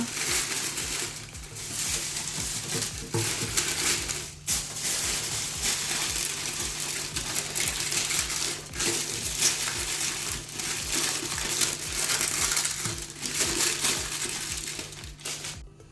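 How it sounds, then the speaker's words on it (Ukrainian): Aluminium foil and parchment paper are wrapped around a metal cake ring, giving continuous crinkling and rustling with scattered sharp crackles throughout, close and fairly quiet, with no talk. "Я взяла три шматочки фольги для того, щоб було товстіше дно кладу пергаментний папір, далі кольцо і так обгортаємо."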